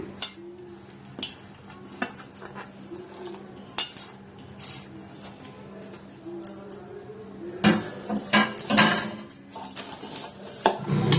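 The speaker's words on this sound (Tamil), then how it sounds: "இந்த மாதிரி மிக்ஸ் பண்ணிக்கிட்டேன்" A spoon clinks and scrapes in a bowl while stirring a cauliflower omelette mixture with green chilies and coriander, irregular metallic taps that grow busier and louder toward the end, close up with no talking.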